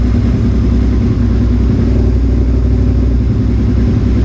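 A Suzuki SV650S motorcycle engine running during carburetor synchronization, a loud, steady low rumble close by that holds an even idle-to-raised pitch throughout, with no voices.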